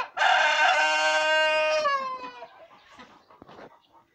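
A rooster crows loudly and close in a farmyard kept with chickens and ducks, one long drawn-out cock-a-doodle-doo followed by softer scattered clucks and yard noise.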